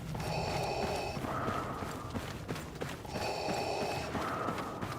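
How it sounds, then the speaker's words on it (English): Darth Vader's mechanical respirator breathing in Star Wars Battlefront 2 while he runs, steady rhythmic inhale-exhale cycles repeating about every two seconds, close and clear, over a faint background of footfalls and ambience. "If you listen carefully, you'll hear Vader's breathing speed up."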